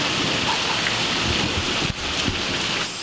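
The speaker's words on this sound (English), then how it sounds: "So it's a little bit rainy." Rain falling outdoors makes a steady, dense hiss of drops, moderately loud and continuous, with no talking.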